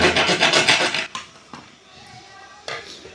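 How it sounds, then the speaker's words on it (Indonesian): Metal hand file rasping the edge of a hole cut to fit a pipe in a DIY chlorine housing, heard as dense scraping strokes up close, followed by a few isolated knocks and scrapes in quieter room tone. "kita dapat menggunakan kikir untuk meratakan bagian lubangnya"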